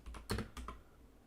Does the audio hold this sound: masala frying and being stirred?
no